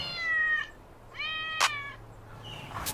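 Two clear cat meows, close by and fairly loud, followed by a softer third meow with a couple of small clicks.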